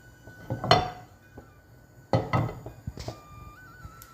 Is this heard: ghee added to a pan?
yes